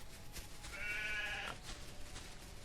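A single sheep bleats in a Minecraft-style solarpunk video game, one short wavering bleat at moderate volume against quiet background noise.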